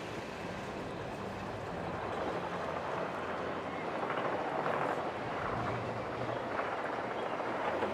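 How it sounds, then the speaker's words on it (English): A passenger train pulls out of a station in the SimCity game, a soft rumbling roll of rail cars that swells slightly midway and stays steady and muted throughout. "We've got people arriving via train."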